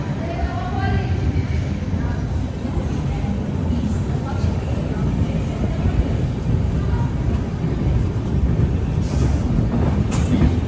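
Grand Trunk Express, an Indian sleeper-class train, pulling out of a station platform: a steady loud rumble of rolling wagons with faint wheel squeal and clatter throughout, people talking underneath.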